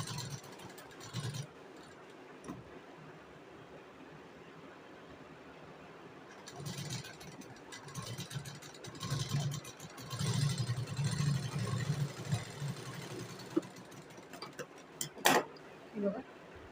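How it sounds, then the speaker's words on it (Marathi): Sewing machine stitching a blouse sleeve with net fabric, a soft intermittent whirring hum in short runs that grows busier midway, with someone speaking quietly at times. "आता मी याच्यावरती शिलाई मारून घेणार आहे"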